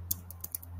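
A handful of quick, light keystrokes tap on a computer keyboard, about five clicks in under a second, faint and close with a low hum underneath.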